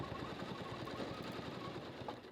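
A Janome Continental M17 combination sewing and embroidery machine stitches at steady speed, close up, with a continuous fast mechanical chatter and rhythmic needle pulses and no talking.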